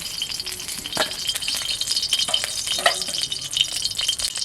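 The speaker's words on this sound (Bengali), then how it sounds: "মাছ ভাজা হয়ে গেছে মাছ ভাজাগুলো তুলে নেব" Steady crackling and sizzling of fish frying in hot oil, with occasional clinks and scrapes of a utensil stirring.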